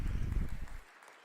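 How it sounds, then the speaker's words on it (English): Brief burst of audience applause and cheering at a virtual open mic poetry event, loud at first then cutting off abruptly to near silence. "Round of applause, everybody."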